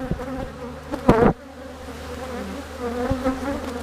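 Honeybees buzzing during a hive split, a sustained hum of many bees close by with a brief loud burst of buzzing from one bee flying near, then the steady drone continues.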